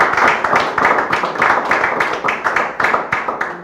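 An audience claps together in a quick, steady rhythm, close and fairly loud, with each clap landing at an even pace for several seconds.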